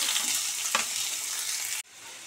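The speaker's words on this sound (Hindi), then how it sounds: "प्याज को हम धीमी आंच पे गोल्डन ब्राउन होने तक अच्छे से भून लेंगे।" Onion frying on low flame in oil with cumin, a bay leaf, cinnamon, clove and cardamom, giving a dense, close sizzle with one stirring scrape partway through, then a sudden dip and a quieter hiss.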